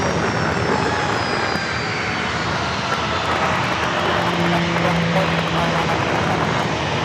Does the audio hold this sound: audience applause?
no